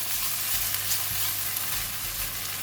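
Vegetables and onion sizzle steadily in a hot pan while stir-fried, with a constant crackling hiss and occasional soft scrapes.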